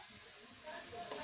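Water poured into a hot cooking pan while making spiced egg curry sets off a brief, soft hiss and steamy sizzle that swells slightly near the end.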